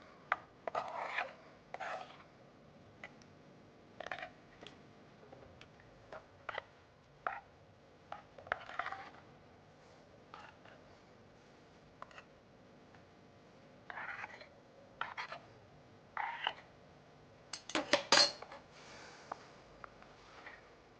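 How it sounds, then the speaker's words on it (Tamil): A spoon mashes ripe mango pulp in a bowl, with soft, irregular squelching scrapes and taps spread out over a quiet kitchen, repeated strokes with pauses, one louder burst near the end. "நல்லா மேஷ் பண்ணிக்கோங்க."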